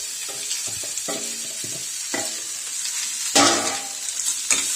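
Grated coconut and tamarind sizzle gently in a pan while a spoon scrapes and stirs in short, irregular strokes, close by and without voices.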